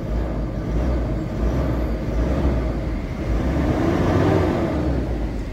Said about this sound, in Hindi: स्टार्टिंग भी गाड़ी की बिल्कुल ओके है